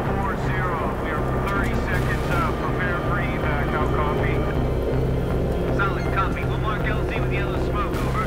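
A military Viper helicopter flies in Battlefield 3 with a steady, loud rotor drone and engine hum underneath, joined by whining mechanical tones and scattered effects throughout.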